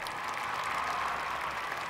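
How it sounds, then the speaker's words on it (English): A crowd at a car tow show gives a dense, steady round of applause that fills the whole stretch at even loudness. "Give him a round of applause, ladies and gentlemen."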